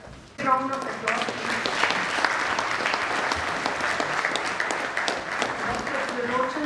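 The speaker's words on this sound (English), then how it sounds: "Round of applause." Audience applause fills a hall at a ceremony, a dense, steady round of clapping from a large crowd, with a voice speaking briefly at the start and a few words near the end.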